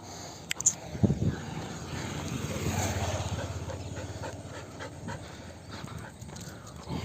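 A female dog that runs along with people pants close by in quick, steady breaths, with a person talking over much of it.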